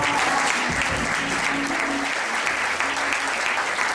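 A church congregation at a deliverance service breaks into steady, loud applause and cheering that fills the whole stretch, dense and continuous with a faint voice buried underneath.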